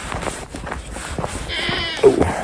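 Goats bleat on a snowy farm at feeding time, with a few calls and a louder nearby bleat near the end, set over faint rustling and background movement.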